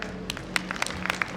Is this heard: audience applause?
yes